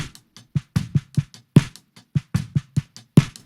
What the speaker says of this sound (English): Snare top sounds like this.